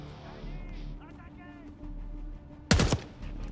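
Gunfire in the Call of Duty Black Ops 6 video game, a short loud burst of shots over steady game background noise and music, heard briefly near the end of the clip.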